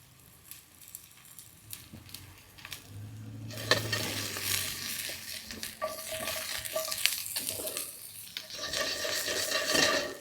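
Peppers and turnips sizzle in a pan on a home stove. The frying starts quietly, then swells into a steady, crackling hiss with occasional stirring scrapes, close up and with no talk.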